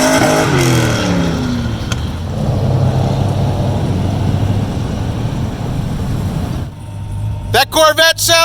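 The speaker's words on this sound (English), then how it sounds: "That Corvette sounds slow!" A Chevrolet Corvette accelerating at a muscle car cruise in Ocean City, Maryland, a steady engine roar building and holding at moderate distance, with traffic noise around and voices starting up at the end.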